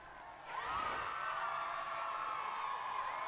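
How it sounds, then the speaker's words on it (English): A stadium crowd cheers at a Quidditch match in the PS1 Harry Potter and the Sorcerer's Stone game, a loud sustained roar of whoops and shouts swelling at about half a second and holding steady to the end. "They only cheer for Harry Potter."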